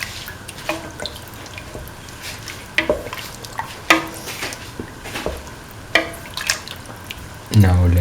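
Beef stew with green peas is stirred into coconut milk in a pan, with wet, irregular scraping and sloshing strokes over a faint simmer, close by, ending in a low thump.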